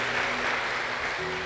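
Church congregation applauding during a worship service, a thick wash of continuous clapping over a low sustained tonal hum, loud and unbroken throughout.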